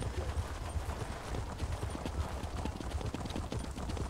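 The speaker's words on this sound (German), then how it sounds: "Reiten wir los und sehen überhaupt nichts" Horse hooves clip-clop in a quick, steady rhythm while riding in The Elder Scrolls Online, a continuous close gallop that carries evenly throughout without speech.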